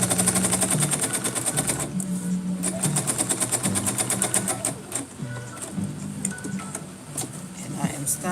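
Sewing machine stitching a line of gathers on a McCall's 8193 cosplay garment, with steady rapid needle bursts that start and stop in several runs, loud and close, while a person talks over parts of it.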